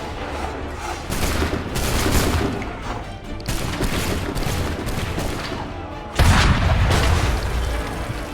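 Gunfire and cannon shots fill a battle in Assassin's Creed III Remastered: heavy booms and overlapping volleys of shots, loud and continuous, with a big blast near the end.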